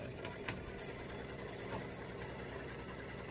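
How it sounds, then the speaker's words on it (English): An embroidery sewing machine satin-stitching a tic-tac-toe grid hums and rattles steadily with dense mechanical clatter, close and continuous, with no talk. "this is going to stitch the tic-tac-toe grid with a satin stitch"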